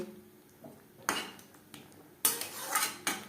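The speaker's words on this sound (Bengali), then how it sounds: "বেশ ভালো করে মিক্সড করে দেবো" A metal utensil stirs and mixes matar paneer in a cooking pan, with a soft scrape, then loud clanks and scraping bursts near the microphone and a final knock, no speech.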